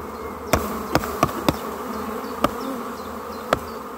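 Honey bees hum around an open hive frame outdoors, a steady low buzz that persists throughout, broken by several sharp clicks or taps scattered across the clip.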